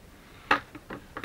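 Scissors snip through a glossy magazine picture, cutting it in half: a few crisp, papery cuts with short gaps between them, close and moderately loud, the last the strongest.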